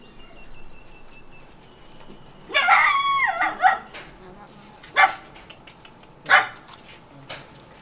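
Dogs bark at an animal shelter isolation unit, a burst of several overlapping yelps and howls followed by a few single barks spaced a second or so apart, moderately near, over a faint steady hum.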